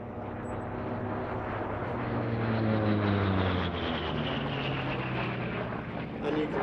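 A piston-engine Bearcat navy fighter plane drones past overhead at an air show, its engine pitch sliding downward as it passes, loud and sustained with wind rushing over the microphone.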